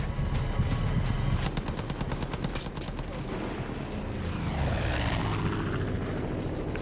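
Aircraft machine-gun strafing in Far Cry 5, a loud sustained rattle of rapid automatic fire over a roaring engine that sweeps past and fades toward the end.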